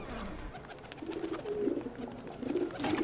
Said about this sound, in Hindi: कबूतर खाने पे आया था यार